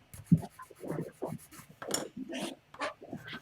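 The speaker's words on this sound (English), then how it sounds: "I got my file. And I just start filing away." A cheap hand file rasps a slot for an axle in a model 1933 Ford coupe, with short scraping strokes in an uneven rhythm, close up and fairly quiet.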